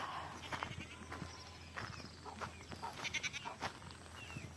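Goats bleating several times at a moderate distance, with scattered short calls and faint rustling in an open outdoor setting.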